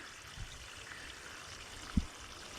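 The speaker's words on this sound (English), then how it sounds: "That's a lot of water." A steady low gush of water pouring out across a yard, faint and continuous, with a single soft thump partway through.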